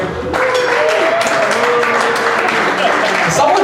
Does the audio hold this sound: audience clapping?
yes